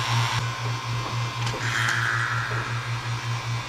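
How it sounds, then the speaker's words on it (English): A vacuum pump runs steadily during an R134a retrofit and car air-conditioning service, giving a loud, continuous pulsing hum with a regular beat, with faint clatter and brief sounds over it. "that vacuum pump, it pulled it down to about 30 inches of vacuum"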